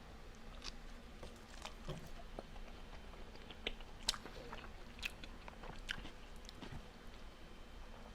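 Someone bites into a quesadilla and chews it up close, producing faint, soft crunches and moist chewing sounds in a quiet room.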